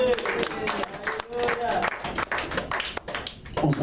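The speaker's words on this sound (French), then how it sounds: "Acclamons pour Jésus." A church congregation claps and acclaims Jesus in irregular bursts of hand claps mixed with voices and shouts, close and lively, with speech running underneath.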